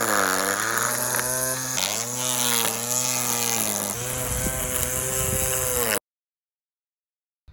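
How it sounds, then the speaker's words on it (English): Petrol strimmer or lawn mower working on an allotment, a loud, close, continuous buzzing engine whose pitch dips and rises as it revs, then cuts off abruptly near the end. "So that of course means a bit of mowing and strimming as well."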